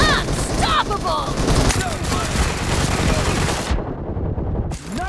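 Dense automatic gunfire rattles almost nonstop in the battle royale game BGMI, loud, close bursts of rapid shots, with a voice speaking in between, before the sound briefly cuts out near the end.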